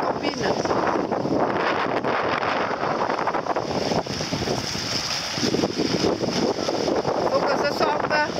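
Strong wind buffets the microphone in a constant roar by the water at Kélenn, with faint talking underneath.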